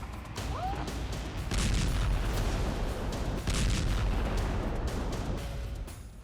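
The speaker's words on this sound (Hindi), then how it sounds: "इधर यूक्रेन के ओडेसा में धमाके हो रहे थे।" Distant explosions in Odesa, Ukraine, during wartime boom and burst through a noisy background, several heavy impacts spread unevenly over a few seconds.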